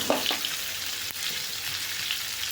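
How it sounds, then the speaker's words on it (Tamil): Ingredients for chutney frying in a pan while being stirred: a steady, faint sizzle with a few soft scraping clicks, and no voices over it. "2 நிமிஷம் வதங்கினா தான் அந்த ஒரு கருப்பாக வர அளவுக்கு வதக்கினா தான் நல்லாயிருக்கும்"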